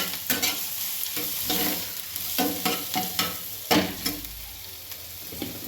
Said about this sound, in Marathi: परत त्याला वरखाली करायचं आणि शक्यतो गॅस बारीकच ठेवा